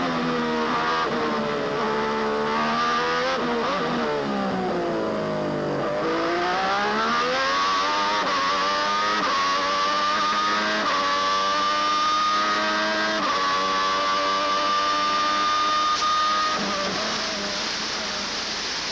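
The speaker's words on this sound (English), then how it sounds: "Listen to the sound of this V12" A 1990 V12 Formula 1 engine recorded from the in-car camera, a loud, high-pitched wail that climbs through the gears, dips sharply under braking around a corner, then rises again and holds at high revs.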